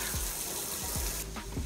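Hot tap water pours into a mop bucket mixed with lavender bleach, a steady close splashing rush with a few low gurgles and no talk.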